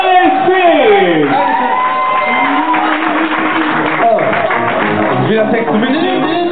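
Audience in a karaoke night at an Irish pub in Ludwigshafen cheers, whoops and shouts loudly throughout, a dense continuous crowd roar with voices calling out over light clapping.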